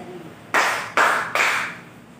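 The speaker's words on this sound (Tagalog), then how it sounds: "Bigyan nyo ng 3 palakpak ng inyong mga sarili." Three sharp, evenly spaced group claps from elementary students, each a crisp burst that decays quickly, clear and fairly close in a quiet room.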